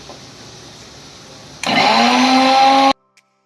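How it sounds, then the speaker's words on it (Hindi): Mixer grinder blending whole-spice masala paste with water: a loud motor whir kicks in abruptly after quiet room tone, grinds steadily with a rising tonal hum, then cuts off sharply. "तो इसमें हल्का सा पानी मिला देंगे, बिल्कुल बारीक इसको पीस लेंगे"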